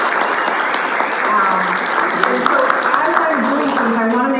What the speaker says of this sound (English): Can we give Tammy a big round of applause?